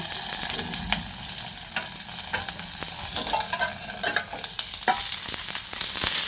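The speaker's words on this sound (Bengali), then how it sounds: "সব কিছু ভালোভাবে ভাজা ভাজা হয়ে গেছে।" Gathi kochu (taro) fries in a pan for a vegetarian Bengali dish, a continuous loud close sizzle punctuated by frequent sharp scraping and clacking strokes as it is stirred.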